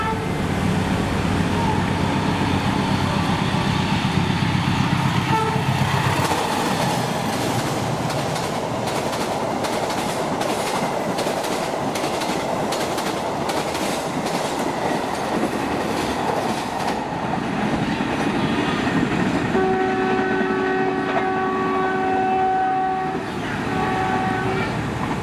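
An Indonesian passenger train with stainless steel executive carriages rolls past nearby, a loud steady rumble and wheel clatter, with a brief horn-like tone near the end.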